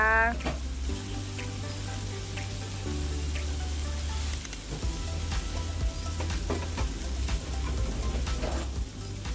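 Eggplant with pork and eggs stir-fried in a pan with soybean paste, a loud, continuous sizzle broken by scraping stirs and a low hum, running alone for about nine seconds.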